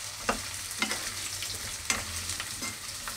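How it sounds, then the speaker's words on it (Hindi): Potatoes fry in a pan with a steady sizzle, while a spoon scrapes through them in four or five distinct strokes spaced about a second apart, close and moderately loud, with no talking. "ये आलू भी अच्छे से फ्राई हो चुके"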